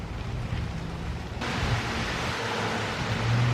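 A steady broadband hiss of rain falls continuously, growing slightly louder partway through, with no voices.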